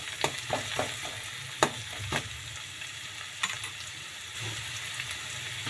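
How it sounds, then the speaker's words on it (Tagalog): Garlic and canned sardines sizzle steadily in a frying pan while a utensil scrapes and stirs with irregular clacks, close and moderately loud, no voices. "Lagyan natin ng bawang. Ayan, bawang. Haluin natin"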